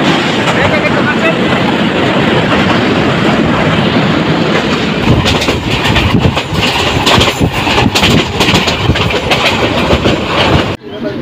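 A local train between Bhairab and Narsingdi rolls onto the Brahmaputra bridge. A loud, continuous rumble is heard close by, with rhythmic clickety-clack from the wheels growing more pronounced partway through.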